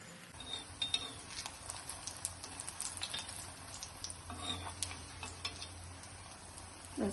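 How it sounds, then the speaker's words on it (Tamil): Bun parotta frying in hot oil on a griddle makes a steady, fairly quiet sizzle and crackle with faint scattered ticks and light metallic touches, close and without speech. "கல்லில் போட்டு எடுப்போம்."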